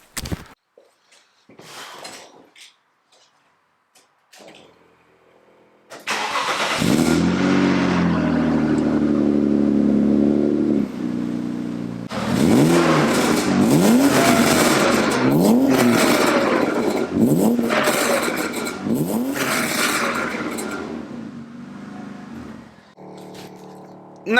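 A BMW E36 with a newly installed exhaust cranks and fires up, then settles into a deep idle before several sharp revs swell and fall back, loud and close, with a few faint background sounds early on.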